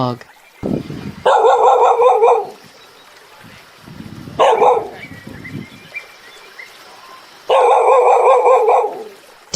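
A dog barks in three short bursts separated by pauses, fairly close and clear, in an animal sound sequence.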